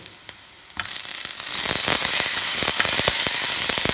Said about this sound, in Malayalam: കുറച്ച് ഗ്രീൻ ചില്ലീസും ഇട്ടൊന്ന് റോസ്റ്റ് ചെയ്തെടുക്കാം ലൈറ്റായിട്ട്